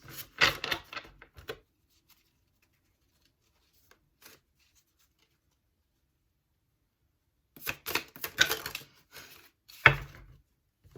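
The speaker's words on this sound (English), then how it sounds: "One more shuffle." A tarot card deck is shuffled in two quick bursts of crisp riffling and flapping, close and fairly quiet, with near silence in between.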